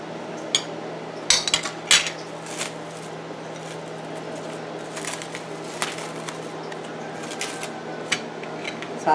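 Plates and utensils clink and scrape in short, irregular taps at close range while litti chokha with chutney is plated, over a steady low background hum.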